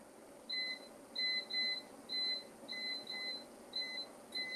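Short electronic beeps from an oven control panel while 375 degrees is keyed in, about nine brief, evenly pitched tones in quick irregular succession, clear and close over a quiet room.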